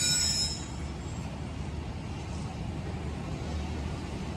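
A long passenger train between Okara and Lahore rolls along in a steady, moderately loud rumble of wheels and carriages, with a brief high squeal at the start.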